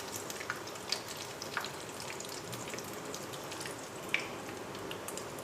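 Chicken, potato and cheese kebabs browning in a frying pan, a soft steady sizzle of oil with a few faint pops, close and quiet, no voices.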